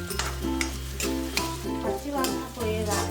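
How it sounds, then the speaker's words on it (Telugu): Ginger and garlic paste frying and being stirred in a pan, a steady sizzle with scraping stir strokes over a low background hum, close and continuous. "పచ్చి వాసన పోయేదాకా ఎంపుకోవాలి"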